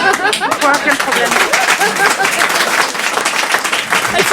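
Clapping in a television studio audience, brisk rapid hand claps close and loud, running continuously with voices talking over them.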